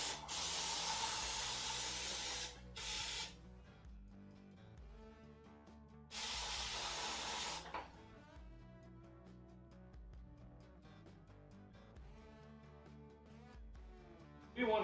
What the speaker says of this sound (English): we're going to spray the outside of the reservoir off real quick